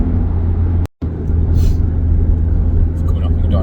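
A Toyota Celica GT4 engine at full boost on the road heading onto a motorway, a loud, steady in-car drone with a brief cut-off, under someone talking.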